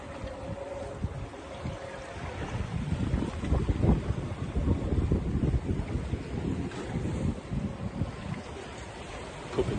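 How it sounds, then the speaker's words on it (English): Wind gusts across a sailing boat at sea during a winter crossing, with the head sail flapping and water rushing past; a steady, loud buffeting roar with irregular low thumps and no talking. "Don't get upset about the head sail flapping, I'm going to go and sort that."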